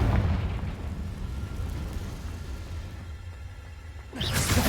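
Confringo fire spell in the video game Hogwarts Legacy: a low rumbling blast that tails off into a dull decay, followed by a second sharp, bright burst near the end.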